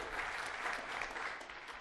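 An audience at a tech conference demo breaks into brief, steady clapping, a quiet, even patter of many hands that tapers off near the end.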